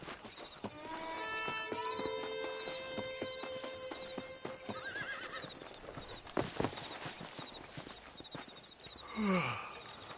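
Horse hooves clip-clop at a steady walking pace in the Red Dead Redemption video game on PS4, with a horse neighing and whinnying over them and ambient game sounds behind.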